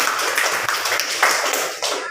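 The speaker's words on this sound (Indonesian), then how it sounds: "Tepuk tangan dulu untuk Nur Hasanah." A classroom group claps for a student after a Quranic recitation, with quick uneven hand claps and light taps overlapping in a lively, moderately loud patter, with faint voices mixed in.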